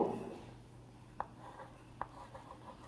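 A pen writes a math solution on paper, a faint soft scratching with two small distinct taps, quiet and close.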